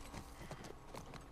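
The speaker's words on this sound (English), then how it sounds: "Now they tell me how to run with the horse." Horse hooves clip-clop in The Last of Us Part 1, a soft, steady rhythmic trot with muffled ambient game sound around it and no talk.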